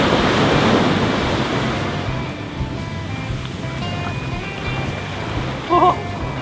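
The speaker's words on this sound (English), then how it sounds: "Get ready for a wave and I'll scoop up some water." Ocean waves break and wash onto the shore in a steady, close roar with some wind buffeting the microphone, easing slightly over time; a brief voice cuts in near the end.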